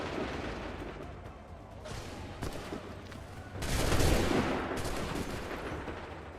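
Musket volleys in the video game Assassin's Creed III: several broad, rolling bursts of massed fire at irregular intervals, the loudest near the middle, set against a low background rumble.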